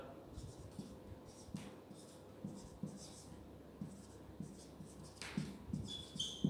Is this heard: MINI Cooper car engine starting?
no